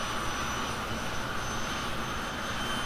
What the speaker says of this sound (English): I hear that General Electric J34 is coming to life.